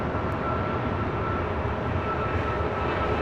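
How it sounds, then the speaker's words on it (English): A Delta Boeing 757 jet at LAX roars on its takeoff run, a broad steady engine rumble with a sustained high whine, heard from a distance with no voices. "Also have a Delta 757 getting ready for takeoff here on the south side"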